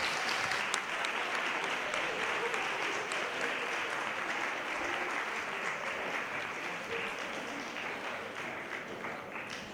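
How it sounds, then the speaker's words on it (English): An audience at a club election night claps steadily for vice-president candidates, dense even applause lasting throughout and tapering only slightly, indoors and moderately distant. "Can everyone please give them a round of applause?"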